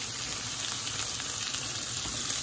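Spices and ground masala sauté in butter for butter chicken, giving a steady, close sizzle that fries on evenly without pause and with no talk.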